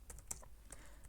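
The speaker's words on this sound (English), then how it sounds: "Just we are typing" Quick, light keystrokes on a computer keyboard during coding, a handful of crisp clicks in an irregular burst, close and fairly quiet, with no voice.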